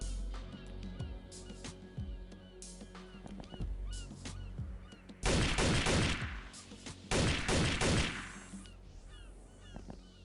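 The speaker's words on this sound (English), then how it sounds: "I'ma just dump on power armor with my shotgun" Shotgun fire in the XPiratez game comes as two loud, dense bursts of rapid blasts, each lasting about a second, among quieter scattered game effects.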